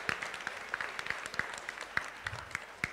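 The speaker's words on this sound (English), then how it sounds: "Give a big round of applause." Audience applause at a school quiz show grand final: a dense run of quick claps from many hands, moderately distant and even, lasting the whole stretch.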